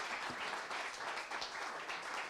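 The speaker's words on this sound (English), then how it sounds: "Give these ladies a hand clap." Audience gives a round of hand claps for a group of women at an event, a faint, steady patter of clapping at a distance with no talk over it.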